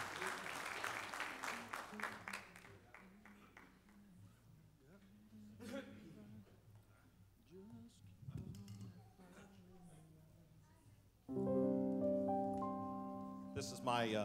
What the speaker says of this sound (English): so you give him a round of applause tonight